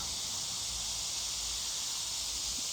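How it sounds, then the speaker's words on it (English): Cicadas buzz outdoors in a sunny southern garden, forming a steady, loud, high-pitched drone that holds unbroken throughout, with no talking. "the cicadas are pretty loud."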